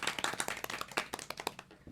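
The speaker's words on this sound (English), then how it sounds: "Can I get a round of applause?" A small audience at a Social Media Week 2016 panel event claps, distinct individual hand claps in an uneven quick rhythm, faint and fairly distant.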